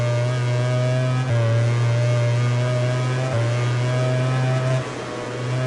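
A race car engine in a PS4 racing game holds a steady high drone under throttle, with small dips and rises in pitch as the driver feathers the pedal through a corner, loud and unbroken.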